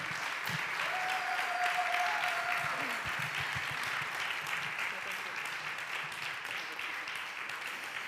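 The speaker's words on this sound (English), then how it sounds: "Maybe one round of applause to these wonderful panelists here." A seminar audience gives a round of applause to festival panelists at the Kaustinen intangible cultural heritage seminar. The clapping is steady and moderately distant, with a brief thin electronic whine and some faint voices mixed in.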